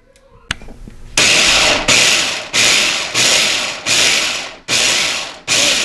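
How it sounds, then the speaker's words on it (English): Food processor pulsing spinach and avocado in loud, even bursts, about seven pulses with short gaps between them after a brief clatter of the lid going on. "The lid goes on the food processor and just pulse it until it's smooth."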